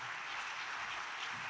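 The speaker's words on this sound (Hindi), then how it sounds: "सोनिया के लिए और इन जैसी बहुत सी ख़वातीन के लिए बहुत सी तालियां" A crowd at a ceremony handing residential flats to women workers applauds for Sonia, a soft, distant, steady wash of clapping throughout with no voices.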